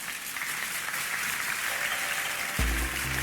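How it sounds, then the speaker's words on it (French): Studio audience applause on a quiz show, steady clapping filling the space for about two and a half seconds before a short musical sting cuts in at the end. "on l'applaudit"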